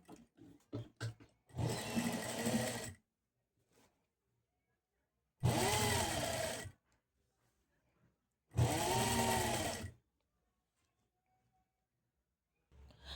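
A sewing machine stitching a blouse runs in three separate bursts of a second or more each, with quiet gaps between them. It whirs up close, and a few short clicks come from handling the fabric.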